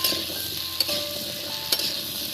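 Potatoes and poppy seed paste sizzle steadily in a frying pan while a utensil stirs them, two distinct scraping knocks rising above the constant hiss, no one speaking.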